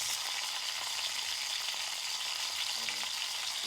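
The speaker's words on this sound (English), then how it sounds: "we're gonna brown this flour" Flour browns in a pan with pork chop drippings and onions, giving a bright, steady sizzle up close, with light stirring rattles through the hiss.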